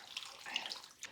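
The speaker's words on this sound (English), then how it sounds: "And then just 4 cups of water." Hot water pours and splashes faintly into a cooking pot for birria, a soft, short trickling wash.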